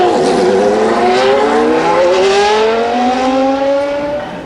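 Formula One race car engine screaming at very high revs at Monza, a loud continuous wail whose pitch climbs steadily through the gears, close and dominant throughout.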